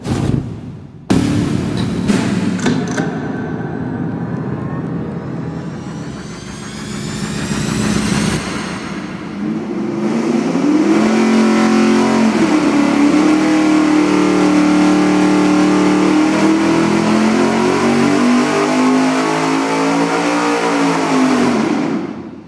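A loud engine with open headers and 2.5-inch collector extensions roars steadily on a dyno, climbing through hard revs and holding at high load for a long stretch before cutting off.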